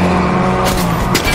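Car in the game Fortnite driving hard, a loud steady engine drone with brief bursts of tire noise and impact clatter, close and without talk.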